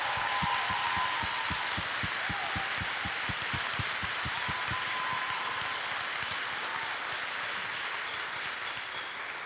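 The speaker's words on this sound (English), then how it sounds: "So can we give our kids a round of applause?" An audience at a school campus ribbon-cutting ceremony applauds the kids, steady clapping that starts strong with distinct claps and gradually softens into a dense, fading patter.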